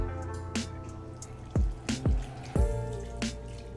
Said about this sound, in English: Okay, it's time to pour the tea.